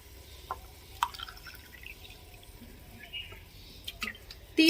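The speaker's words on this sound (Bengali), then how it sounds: "যেই কাপে আমি চাল মেপে দিয়েছি সেই কাপে আমি জল দেব।" Water poured from a measuring cup into rice for veg pulao, heard as soft, sparse splashes and drips, with a louder gush of pouring at the very end.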